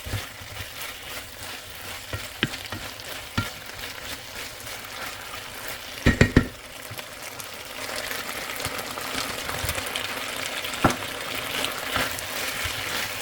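Garlic paste sizzling in a pan for a beef stir fry, a steady soft frying hiss with occasional stirring scrapes and a brief louder clatter partway through.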